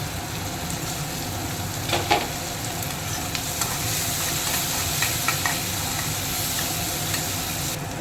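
Onions sizzle steadily in hot oil while crushed garlic and chopped green chillies are stirred into the pan for a Bengali fish curry with potato and eggplant, with a few light scrapes and clinks breaking through the even frying hiss.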